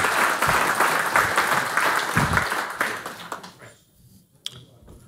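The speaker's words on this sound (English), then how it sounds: "give a warm applause to Mohammed Asad Ula" Audience applause at a graduate student innovation contest, a full round of clapping that carries for about three seconds, then fades out to near quiet with a few stray claps.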